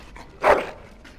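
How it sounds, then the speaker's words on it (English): A single short, close dog bark in the fantasy role-playing game Dragon Age: Origins, a quick yelping burst set against quiet game ambience. "Bloody dog."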